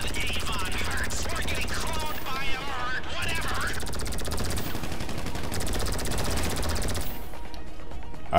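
Gunfire in GTA Online, dense and continuous, with rapid machine-gun bursts and scattered shots over a loud rumble of engine or helicopter noise, with voices talking over it.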